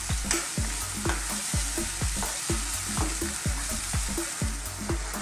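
Sweet chicken asado with potatoes sizzles in a pan while a utensil stirs it in a steady rhythm of repeated scraping strokes, close and fairly loud over continuous frying hiss.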